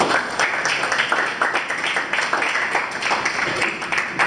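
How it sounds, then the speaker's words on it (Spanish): A group applauds at a birthday gathering for Alejandra, with brisk, dense clapping that pulses unevenly and stays loud and close for several seconds with no talking. "Un aplauso."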